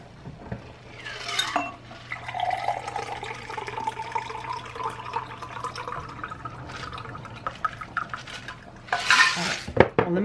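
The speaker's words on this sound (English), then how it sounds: "Let me pour out the rest of that other one" Margarita poured into a glass in a home kitchen, a liquid stream trickling and splashing for several seconds amid clinks of glassware and a faint steady hum, close and fairly quiet, with no talking.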